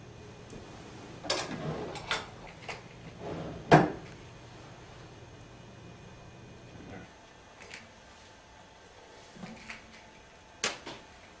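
A kitchen drawer is pulled open and rummaged through for matches indoors, giving a few short wooden knocks and scrapes spread over several seconds, moderately close, against a quiet room.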